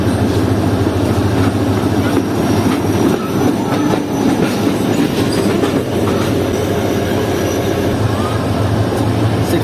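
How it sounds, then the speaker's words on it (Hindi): The Shah Latif Express departs Dhabeji railway station with a loud, sustained rumble of wheels and rolling carriages, faint rhythmic clatter over the rails, and a voice speaking over the din. "ट्रेन डिपार्ट कर रही है धाबेची रेलवे स्टेशन से"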